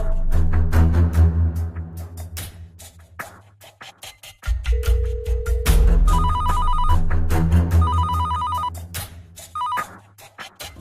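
A telephone rings in short repeated electronic bursts over a dramatic musical background, the rings coming in a regular pattern toward the end.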